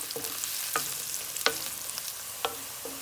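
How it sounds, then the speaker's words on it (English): Onion frying in a pan for a spicy eggplant dish, a steady sizzle with a few sharp scrapes of stirring at irregular intervals; no talking. "then I'm going to add the onion. Fry 2 to 3 minutes till little bit golden brown."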